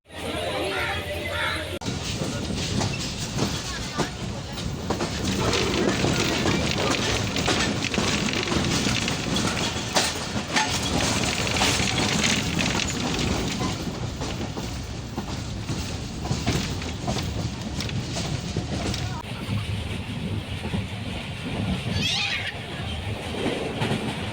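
A passenger train travels by rail from Karachi to Lahore, its steady rumble and rhythmic wheel clatter filling the carriage for the whole stretch while people chatter faintly in the background.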